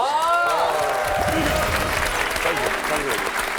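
A Korean TV talk-show studio audience applauds loudly and steadily while voices and laughter rise over the clapping at the start and carry on through it.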